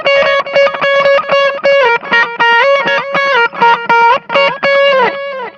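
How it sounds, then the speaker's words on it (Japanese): An electric guitar runs through a BOSS GX-1 multi-effects unit with delay and distortion, playing a loud single-note melodic line of short, evenly spaced notes that repeat and echo, with no talking. "そしてもう一つのディレイですけれども、こちらはチャッて弾くと音を繰り返すんですけど"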